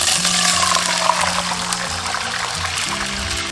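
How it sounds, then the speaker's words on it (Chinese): Water pours into a hot wok holding scallion whites fried in cooking oil, a steady close rush and gurgle that carries on for several seconds and then eases off at the end, with no talk. "然后加入清水"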